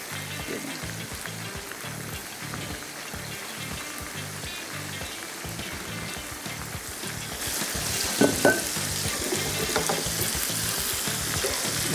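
Spicy Korean chicken wings sizzle and fry in a pan with a loud, steady, close crackle that runs throughout. A few stirring clatters come in near the end.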